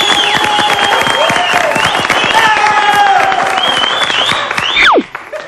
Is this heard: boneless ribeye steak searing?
no